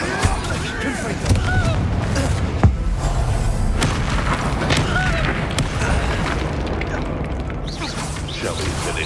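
In the Hogwarts Legacy video game, a Confringo spell explodes with a deep boom over dense combat noise, creaks and mechanical clatter.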